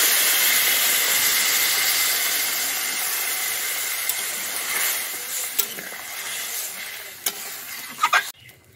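Water added to sautéed pumpkin in a hot pan for a prawn and pumpkin curry sets off a loud, steady hiss of steam and sizzle that slowly eases, with a few sharp clicks of stirring near the end.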